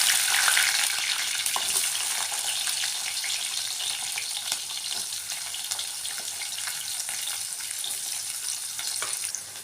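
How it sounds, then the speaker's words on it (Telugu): Onions and green chillies frying in hot oil with crackling cumin while cooking a cauliflower and tomato curry, giving a steady close sizzle with faint clinks and stirring, no voices. "జీలకర్ర చిటపటలాడుతున్నప్పుడు ఉల్లిగడ్డలు, పచ్చిమిరపకాయలు వేసుకోవాలి."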